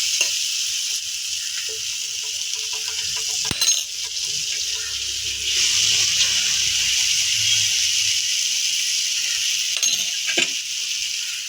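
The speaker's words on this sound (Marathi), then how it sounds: "आता आपण हे दाबेलीचे पाव याच्यावरती भाजून घेणार आहोत चांगले" Dabeli buns toasting in butter on a hot pan give off a steady, close sizzle that runs the whole time, broken by a few sharp clinks of a spatula or utensil against the pan. No one speaks.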